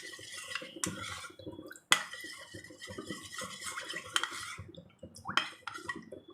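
A spoon clinks and scrapes against a bowl in irregular strokes as cornflour paste with water is stirred, quiet and close, with small taps and pauses.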